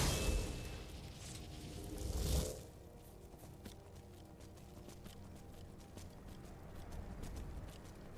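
Horse hooves in the video game Skyrim clop in a steady, rhythmic gait at moderate loudness after a brief louder rush at the start, with no talking.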